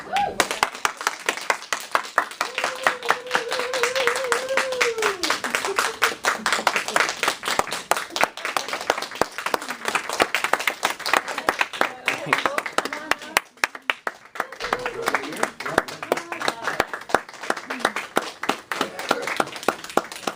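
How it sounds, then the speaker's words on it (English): Members at a club meeting give a round of applause, a sustained patter of sharp, fairly close claps from a modest group, with a voice speaking over it near the start and again partway through. "let's give a big round of applause"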